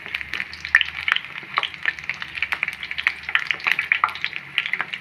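Punugulu batter fries in hot oil in a kadai, a close, busy sizzle with dense crackling pops and bubbling bursts that keep going steadily without any talk.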